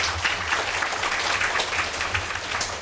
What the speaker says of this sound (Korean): 여러분들이 박수 한번 해주시면